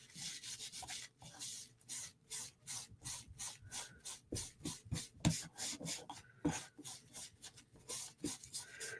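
A magic eraser with oil scrubbed back and forth over a coated knife blade, giving steady rhythmic rubbing strokes, close and fairly quiet, with brief pauses between bursts.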